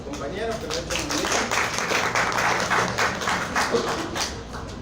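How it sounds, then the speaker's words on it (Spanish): Students in a university immunology lecture applaud a classmate, a steady patter of claps from a modest group in the room, with some talk mixed in. "un aplauso para su compañero que lo ha hecho muy bien"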